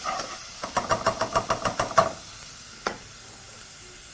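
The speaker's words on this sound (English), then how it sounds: "And these you will proceed to saute for about a minute, right up until your onions are sweated out" White onions sauteing in a pan for a chickpea soup, with a steady sizzling hiss and a quick run of about ten rhythmic knocks or taps, then a lone tap against the continuous frying noise.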